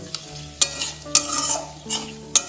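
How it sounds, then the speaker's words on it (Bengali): Dried red chilies, bay leaves, whole garam masala and cumin seeds are stirred in hot oil, with a soft steady sizzle broken by about five sharp scrapes of a spatula against the pan, close and without talk. "ফোড়নটা তেলের সাথে একটু নাড়াচাড়া করে দেবো।"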